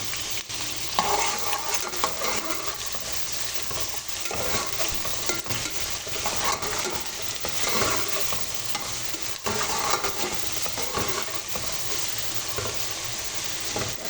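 Garlic frying in hot oil in a large pot for a goat meat curry, a steady close sizzle with intermittent stirring scrapes running throughout, loud and continuous with no talk.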